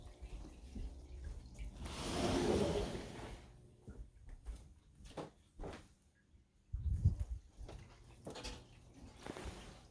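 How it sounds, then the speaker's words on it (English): Water runs from a household tap in a brief, hissing gush, rising and falling at fairly low volume amid faint room noises and knocks. "Getting water."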